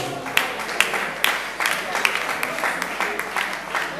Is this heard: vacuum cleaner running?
no